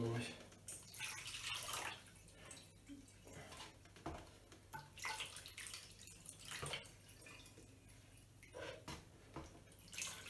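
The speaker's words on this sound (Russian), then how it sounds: "Водичка пока уходит," Water poured slowly through a funnel into a household pump station's hydraulic accumulator, heard as faint, intermittent trickles and small drips with soft clinks, close by and quiet.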